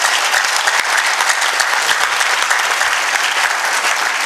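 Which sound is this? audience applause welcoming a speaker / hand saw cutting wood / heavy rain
audience applause welcoming a speaker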